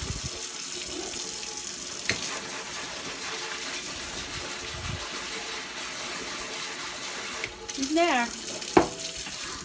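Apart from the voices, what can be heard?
tap water rinsing a strainer in the sink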